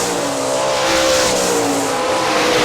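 410 sprint cars race around Hartford Speedway Park, Michigan, a steady loud roar of several engines at full throttle with a wavering high whine as the pack passes, continuous with no talk.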